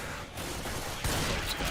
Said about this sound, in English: Let me just shoot that guy.